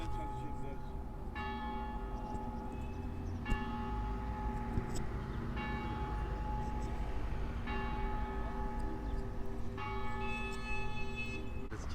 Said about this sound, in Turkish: Çanlar.